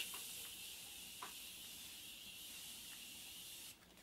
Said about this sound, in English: Oh, I could spray this for hours.